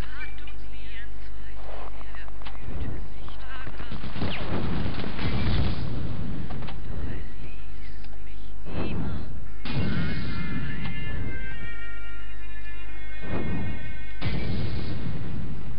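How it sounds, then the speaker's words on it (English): A petrol bomb explodes in the PS1 game Medal of Honor Underground as several heavy, booming blasts with crashing debris, mixed with other game noise and someone talking over it. "Get a petrol bomb ready."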